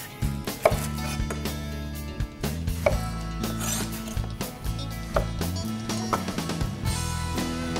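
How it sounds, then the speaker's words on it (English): A knife slices a red onion on a cutting board in a run of sharp, close chopping taps, irregular but steady, with clicks of the blade against the wood and no talk. "run our blade through it, keeping our fingers back"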